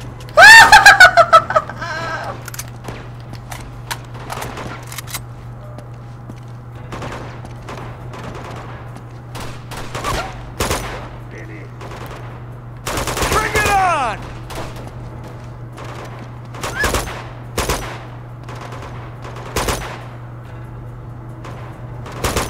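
Scattered gunfire in Uncharted 2: Among Thieves during urban combat, with sharp separate shots and short bursts spread over a steady hum, and a few brief voice sounds between them.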